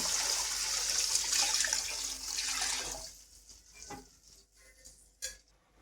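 Water pours steadily into rice for about three seconds with a rushing splash, then stops, followed by a few soft clinks and stirring sounds.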